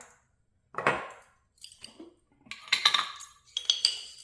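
A metal tablespoon clinks and scrapes against a bowl while flax and chia seeds are measured out for homemade bread: scattered light taps and rattles with short silences between them, close and fairly soft.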